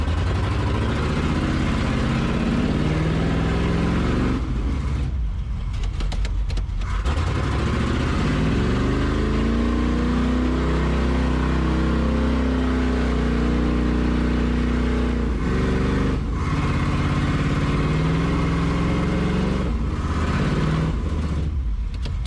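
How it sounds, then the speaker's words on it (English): A 1971 Ford F100 4x4 roars loudly and close, its engine revving up and down in rising and falling sweeps as the tires spin in mud, with no talking over it. "Hey, we got tires spinning."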